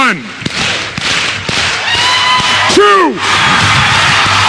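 A crowd at a motivational seminar erupts in loud cheering, whoops and shouts with clapping, close and energetic, with excited voices rising over the din.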